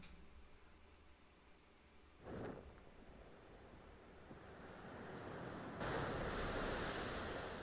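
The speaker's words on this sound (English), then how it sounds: "that's the sound of the main character getting pitched into the sea" In the Elden Ring video game, the main character is pitched into the sea: faint surf and wind hiss, a brief splash-like burst, then the ocean wash swelling louder toward the end, no voices.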